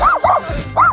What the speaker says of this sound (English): that dog wanted to bite my ankles off